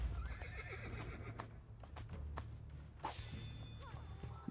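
Horses in the Assassin's Creed Brotherhood video game whinny and clop along amid combat noise, with a sharp bright burst partway through, steady and fairly loud, with no voice.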